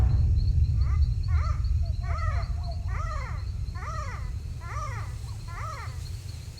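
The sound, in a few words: greater galago (bush baby) calling at night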